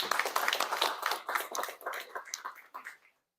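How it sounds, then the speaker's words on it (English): A smallish audience at a talk on poultry gut health claps in a short round of applause, close and uneven, tapering off and stopping just before the end. "Let's give a round of applause."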